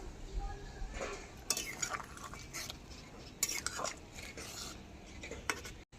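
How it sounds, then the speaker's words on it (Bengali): A spoon stirs ridge gourd and pea lentil curry in a pot, giving soft scraping and light clinks against the metal in irregular bursts over a quiet kitchen background. "নাড়িয়ে চাড়িয়ে ঝোলের সাথে মিশিয়ে নেব।"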